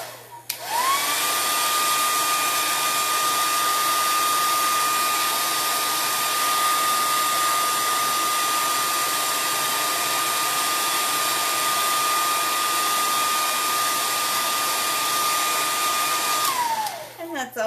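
A hair dryer runs steadily for about fifteen seconds while drying chalk paste on a small boxed wooden frame, a loud constant whirring blow that starts and stops abruptly, with no speech.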